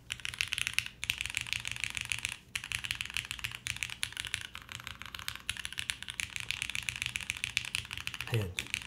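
Typing on the alpha keys of a mechanical keyboard, fast continuous clacking at close range with a few brief pauses between bursts and a single deeper thock near the end.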